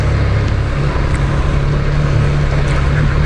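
A KTM 390 Duke motorcycle ridden out of a city in Italy, its engine drone and rushing wind forming a loud, steady, unbroken roar throughout.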